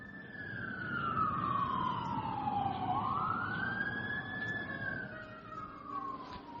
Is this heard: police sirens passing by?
yes